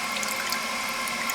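Water runs steadily into a toilet tank being adjusted with a Korky 528MP or Fluidmaster 400A fill valve, a close, even hiss without pauses or voices.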